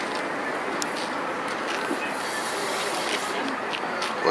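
A tram converted into a cafe rolls along its rails in Perm, giving a steady, close rumble of wheels and running noise that fills the whole stretch with no clear breaks.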